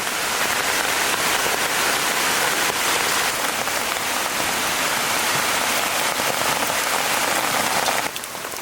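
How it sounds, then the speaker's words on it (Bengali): Heavy rain pours down in a dense, loud, continuous roar of drops hitting surfaces nearby, steady for several seconds before easing slightly at the end, with no talking. "দাদা ভাই দিদি ভাই দেখো বৃষ্টি একেবারে দাবা চলে এসেছে"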